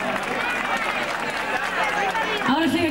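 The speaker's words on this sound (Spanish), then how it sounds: "El aplauso para mis bailadoras" Audience applause and crowd noise for dancing women at a 1994 performance in Torrejón el Rubio, a steady dense wash of clapping at moderate distance, with a voice cutting in near the end.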